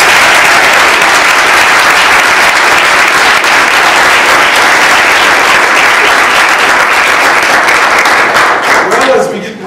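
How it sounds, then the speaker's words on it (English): Loud, sustained applause from an audience at a speech evaluation contest, many hands clapping in a thick continuous roar that holds steady for several seconds before trailing off at the end. "Let's begin by giving them a big round of applause."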